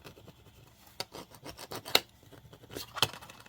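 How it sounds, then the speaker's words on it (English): A burnishing tool rubs a vinyl decal down onto an acrylic keychain, making faint, close, scratchy strokes in quick repeated passes with a few sharper clicks. "I'm going to burnish that down again."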